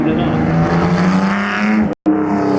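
A vintage race car engine idles and revs at a Simeone Museum demo day, a loud, close, buzzing harmonic drone that rises and falls, with a brief dropout near the end and a voice talking over it.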